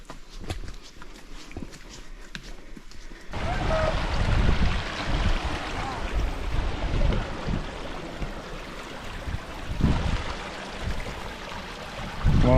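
Clear water from a mountain stream rushes steadily along the Camino de Santiago route from Porto, a broad close wash of flowing sound that swells in after a quieter opening.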